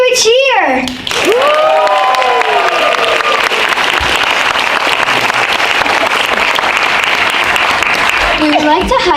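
A primary school audience at the close of a Kaleidoscope show bursts into loud, sustained cheering and applause, with children's shouts and whoops over dense clapping that carries on steadily to the end.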